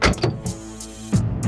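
A door swings open with a brief clunk and a low, humming creak, close and clear, with a short knock-like thud at the start and end.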